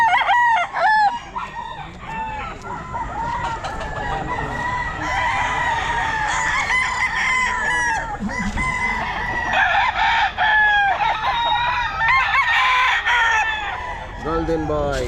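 Several roosters, including Golden Boy stags, crow repeatedly at a busy pet market, loud overlapping cock-a-doodle calls with clucking fowl in the background, while people talk nearby.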